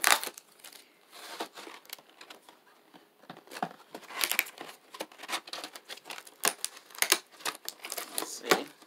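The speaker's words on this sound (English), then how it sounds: "I'm tearing the box open." A cardboard box is torn open by hand, giving a quiet, close run of sharp ripping and crinkling bursts at an irregular rhythm.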